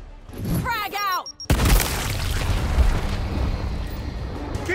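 Frag grenade blast in Gears Tactics, a single sudden loud boom after a short shouted callout, followed by a rumbling, crackling aftermath that lingers.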